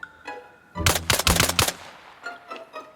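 Rapid automatic gunfire in Arma Reforger, a loud burst of several shots in quick succession, followed by fainter distant reports and echoes.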